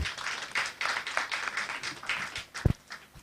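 Audience at a pre-internship conference clapping in a room, a moderate, uneven patter of hands in loose bursts with one sharper thump near the end.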